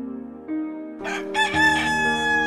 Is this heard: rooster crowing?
yes